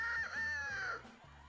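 A person imitates a rooster crowing on a Brazilian game show, one loud drawn-out vocal crow lasting about a second, with background hum continuing after it.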